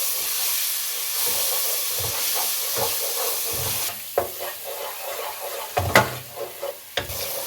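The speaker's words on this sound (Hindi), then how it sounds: "अब इसको टमाटर के साथ भून लें।" Finely chopped tomatoes and green chillies fry in a pan with roasted gram flour, giving a steady sizzle and hiss broken by several sharp stirring scrapes near the end.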